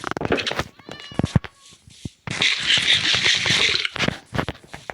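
Several cats running about indoors in a village house, giving short meows and squeaky calls among thumps and rustling, with a burst of broadband hiss midway, close and moderately loud.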